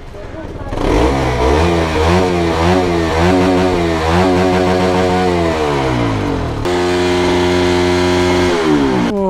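A motorcycle fitted with a Duke 390 exhaust revs loudly and up close, its engine note climbing and falling through several throttle blips before settling into a steady, high idle.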